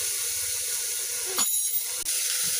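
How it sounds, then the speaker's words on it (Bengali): Moong dal tipped into a spice mixture frying in oil in a pan, bringing a sudden crackle and then a hiss that settles under a continuous high sizzle, close by. "এই যে মুগ ডালটা দিয়ে দিচ্ছি।"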